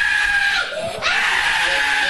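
A young girl burned by a bomb blast in Gaza screams in pain, a raw, sustained, high-pitched cry that dips briefly, then resumes loud and close.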